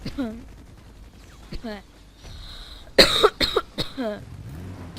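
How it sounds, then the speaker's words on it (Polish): A person coughs in a rough burst of several harsh, close coughs, with brief voiced sounds and throat noises before, over faint game-like background sound while playing Battlefield Heroes. "Teraz będzie chyba maraton kaszlenia."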